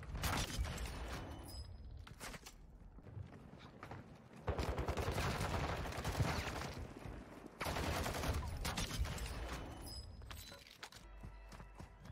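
Gunfight in the video game Warzone 2, dense bursts of automatic fire and sharp shots rattling on and off for about twelve seconds, loud and close with brief lulls between volleys and clicking mechanical sounds near the end.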